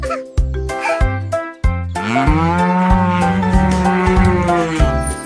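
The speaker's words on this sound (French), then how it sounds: "il meuglait de joie" A cow moos loudly several times, short calls at first, then one long drawn-out low bellow that trails off at the end.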